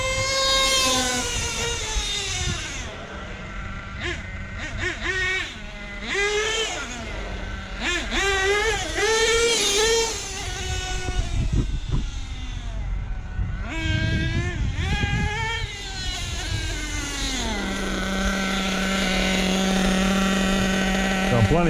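Losi 8T nitro RC truck engine during break-in, revving in repeated high-pitched rising and falling bursts, then settling into a steady idle, loud and close with a voice at moments.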